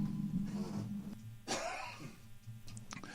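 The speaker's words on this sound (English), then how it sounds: "There was my cough." A person coughs and clears their throat in a few short, rough bursts, close to the microphone in an otherwise quiet room.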